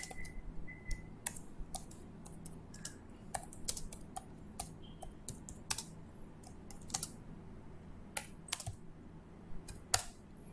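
Computer keyboard typing during AutoCAD drafting of a building plan, a steady run of quick, light key clicks in irregular bursts over quiet room hum.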